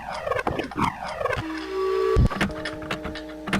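Clock sound from a sound puzzle in the Myst video game: a busy mix of sharp clicks and short mechanical tones, with a held buzzing note in the middle, fairly quiet and with no voices.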